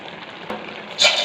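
Lentil dumplings (bori) go into a pan of labra mixed-vegetable curry with a soft, steady sizzle, a light tap midway, then a sudden brighter surge of frying hiss near the end.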